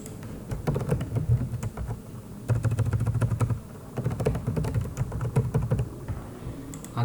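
Someone types on a computer keyboard, entering an email address and password, in quick bursts of close, soft key clicks separated by short pauses, with no talking.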